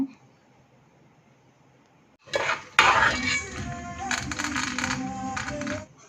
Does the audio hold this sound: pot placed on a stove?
yes